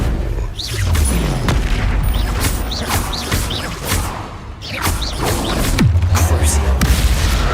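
Bombarda blasting spells go off in Hogwarts Legacy amid a goblin fight, several heavy booming impacts and whooshes over a dense rumbling battle bed, loud and close.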